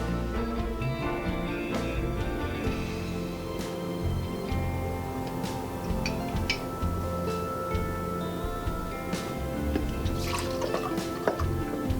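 A cup of isopropyl alcohol, measured for homemade hand sanitizer, pours steadily with trickling, dripping liquid sounds that run through the whole clip.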